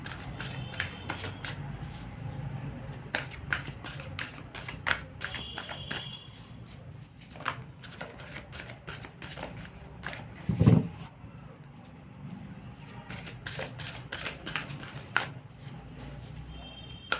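Matte-finish tarot cards, sticking together in dry hands, are shuffled for a reading, giving repeated soft riffling flicks and shuffles close by, with faint background noise and a single thump.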